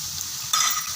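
A steady sizzle of garlic paste frying in a hot pan, with a brief louder crackle and stirring noise partway through.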